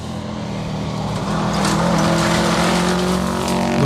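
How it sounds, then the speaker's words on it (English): Subaru WRX 2001 rally car from Davidson Motorsport at a rally sprint, its engine roar building as it approaches, then holding loud with rising and falling tones and no voices. "Next we'll have the Davidson Motorsport car in. Matthew Davidson and Amy Davidson, another WRX"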